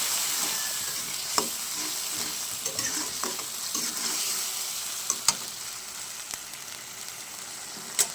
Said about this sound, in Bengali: পরিমাণ মতন হলুদ দিয়ে মশলাটা ভালো করে কষতে নেব